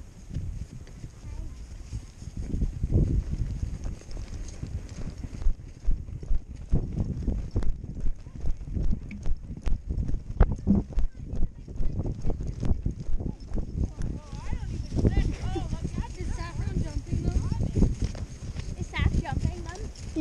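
Paso Fino horse hooves thudding and clip-clopping across a cross-country jumping course outdoors, an irregular run of footfalls at moderate distance, with people talking and cheering over it.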